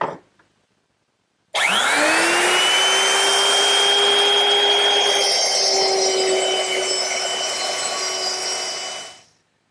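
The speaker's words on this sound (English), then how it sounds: "Now I'm going to have to cut the ends freehand following those scribe marks" A power router cuts a mortise freehand in wood, running as one steady loud whine for about eight seconds after a brief quiet start, then winding down. Close and with no voices.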